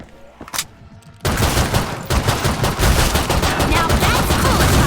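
Gunfire in the co-op zombie shooter Killing Floor 2 on its hardest difficulty, one early shot, then a loud, continuous stream of rapid shots and chaotic battle noise that fills the rest.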